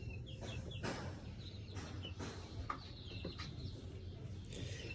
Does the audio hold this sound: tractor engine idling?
no